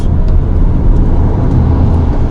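Interior road noise from a 2019 Audi A5 Sportback on the move: a loud, steady low rumble and whir of tyres and engine, continuous and even, with no talking.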